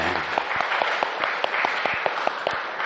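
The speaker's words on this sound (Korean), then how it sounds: "우리 찬양도 열심히 했는데 우리 박수 한번 쳐드립시다." A Korean church congregation claps for the praise team, a steady wash of applause with a few sharper claps standing out, moderately distant.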